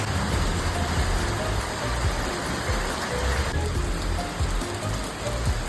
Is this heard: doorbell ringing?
no